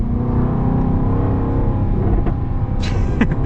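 A 2023 Jaguar F-Type P450 sports car engine revs steadily and loudly at close range, then near the end of the revving a few sharp, crackling exhaust pops burst out.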